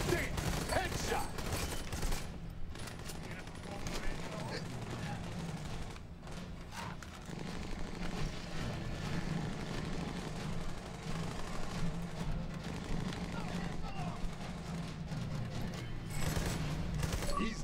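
Sustained automatic gunfire rattles in the video game Army of Two: The Devil's Cartel, a dense fusillade of shots and thumps running throughout at moderate level beneath voices.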